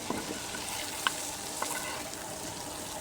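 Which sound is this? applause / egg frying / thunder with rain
egg frying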